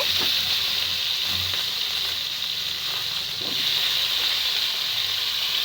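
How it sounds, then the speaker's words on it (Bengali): Green beans frying in oil in a wok, giving a dense, continuous loud sizzle that holds steady throughout, with a few faint stirring scrapes beneath. "কড়াইয়ে তেল দিয়ে ফেলেছি, এখন এগুলোকে ফ্রাই করছে"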